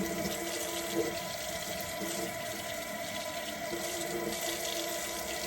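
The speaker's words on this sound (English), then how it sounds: "I just rinsed the spoon I was using." A running kitchen tap rinses a spoon, a steady close splash of water flowing into the sink throughout.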